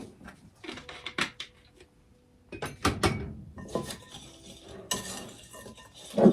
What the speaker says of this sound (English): And get that all whisked together.